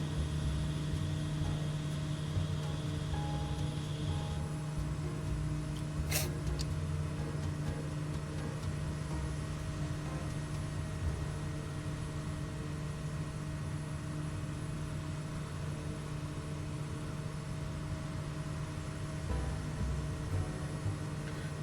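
Steady propeller drone of a heavily loaded bush plane cruising in Microsoft Flight Simulator 2024 with flaps being raised, a continuous engine hum with no talking.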